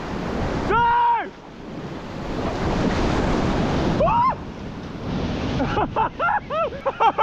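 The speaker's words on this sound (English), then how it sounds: "we come up to our first real rapid called the Gordian Gate" On the Franklin River, a packraft is swept into a rapid and rushing whitewater roars up close. High shrieking tones break through the noise, and a run of choppy bursts follows near the end.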